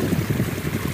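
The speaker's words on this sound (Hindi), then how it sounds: "ये चाचा के खेत में पानी जा रहा है" Water gushes steadily from an unconnected irrigation pipe into a farm field, a loud continuous rushing and splashing heard close up with no talking.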